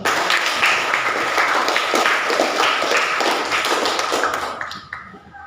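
Children clap hands together in a lively, steady burst that fades toward the end, with no talking.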